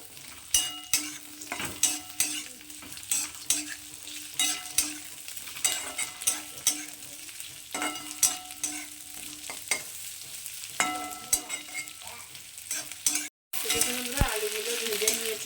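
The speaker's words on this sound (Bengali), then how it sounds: "আলু দিয়ে দিচ্ছি এটা একটু আলুটা একটু হালকা ভেজে নেবো" Potatoes fry lightly with onions in a pan, a steady close sizzle broken by frequent scraping and clattering stir strokes throughout, with a brief silent gap near the end.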